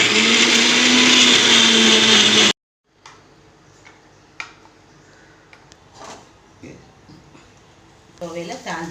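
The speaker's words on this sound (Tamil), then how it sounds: "வெங்காயத்தை சேர்த்து அரைச்சிக்கலாம்." Onion ground in a mixer grinder, a loud, steady, close whir for about two and a half seconds that cuts off abruptly, followed by a few faint clicks and knocks.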